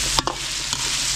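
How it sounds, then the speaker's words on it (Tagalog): Garlic and onion sauté in a pot for a catering kaldereta, a steady close sizzle with a couple of brief stirring scrapes, no voices. "ginisan na natin bawang sibuyas natin"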